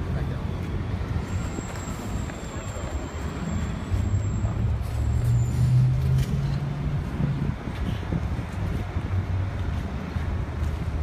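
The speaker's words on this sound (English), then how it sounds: "I know it's really windy out here" Strong wind blows outdoors and buffets the microphone as a constant low rumble, swelling louder through the middle before easing slightly.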